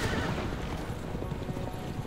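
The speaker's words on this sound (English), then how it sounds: "Nay is right, horse" In Assassin's Creed Revelations a horse whinnies as its hooves clip-clop steadily over a rough, potholed road, loud and close throughout.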